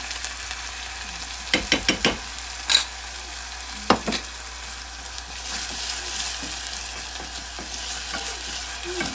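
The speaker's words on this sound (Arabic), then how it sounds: "حطيت زيت بصلة، معلقة توم" Onion and garlic sizzle in oil in a pot for seafood soup, heard as a steady, moderate hiss with a few sharp clanks of a spoon against the pot early on, and no voices.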